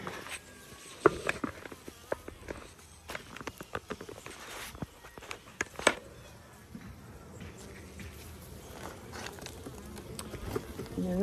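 Honey bees buzz faintly around mini mating nucs on an overcast day, giving a soft steady hum broken by scattered clicks and handling knocks close by.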